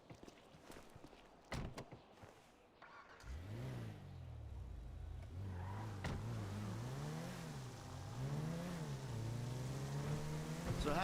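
Car driving in GTA V: a steady engine tone rising and falling with gear changes and revs, continuous and fairly loud after a few seconds of scattered clicks and noise.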